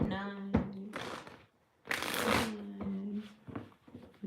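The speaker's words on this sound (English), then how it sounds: "I have to do one more shuffle for Gemini" Tarot cards shuffled by hand during a reading, several quick riffling bursts and soft slaps close up, interleaved with a person talking.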